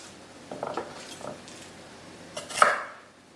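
A kitchen knife cuts a small garlic clove in half on a board. A few crisp, close chopping taps come in two short clusters, separated by quiet.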